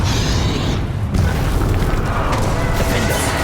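Fiery Confringo blasting spell going off in the Hogwarts Legacy video game, a loud booming burst over a dense, continuous rumble of combat noise with no break.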